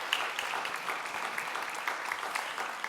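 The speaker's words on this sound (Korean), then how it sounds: "뜨겁게 박수로 인사할 때 응해 주시기 바랍니다." A church congregation gives a soft, steady round of applause during a Sunday service, with dense even clapping heard from a distance and no talking over it.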